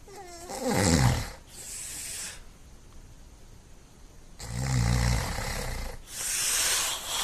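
A played recording made during a paranormal investigation carries heavy, rasping breaths resembling snores or snorts, two loud bursts separated by a quiet hissy gap, then a softer breathy swell at the end.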